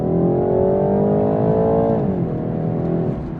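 A 2019 BMW 330i engine revs hard and climbs steadily in pitch, dips briefly as it shifts gear, then pulls on again, loud and close.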